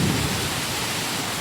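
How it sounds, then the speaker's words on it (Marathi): Heavy rain with thunder and hail in Amravati, a dense, continuous wash of rain with a low rumble at the start, loud and close, with no voices. "आता हा दुसरा पाऊस आहे"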